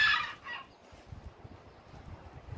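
A sharp, bright bird call opens, then chickens and roosters on a small farm cluck softly and irregularly nearby.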